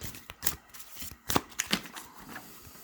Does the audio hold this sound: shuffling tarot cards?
yes